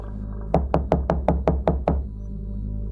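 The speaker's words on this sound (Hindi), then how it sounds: "अर्जुन ने जल्दी जाकर दरवाजा खटखटाया।" Eight sharp knocks on a wooden door in a quick, even sequence, loud and close, over a low steady hum.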